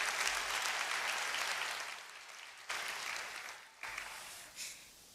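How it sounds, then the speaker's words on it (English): Applause from the audience at a university law school hooding ceremony, warm steady clapping that dips and then swells back in short bursts. "Please join me in another round of applause for Ms."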